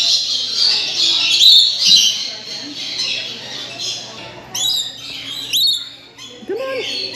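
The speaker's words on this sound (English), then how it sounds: "The lories are often very curious and will land on your shoulders, arms, or even your head to drink from the nectar cup." Lories drinking nectar at Columbus Zoo give loud, harsh squawks and shrill chirps close by, in repeated bursts over a busy aviary background.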